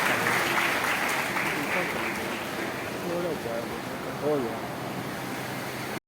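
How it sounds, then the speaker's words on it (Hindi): An audience applauds at an award ceremony honouring meritorious students, a broad, continuous wash of clapping heard through a hall, with a voice speaking over it partway through before it cuts off abruptly. "तालियां बजाइए।"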